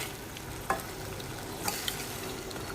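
Soaked tamarind is stirred into a spicy tomato chutney cooking in oil, with a faint steady sizzle and a couple of light spoon taps.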